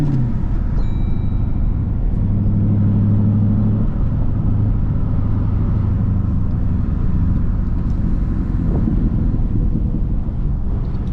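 A Lamborghini set to track mode produces a heavy, steady low rumble heard from inside the cabin. The constant drone carries a faint wind buffet and a few brief higher tones riding above it.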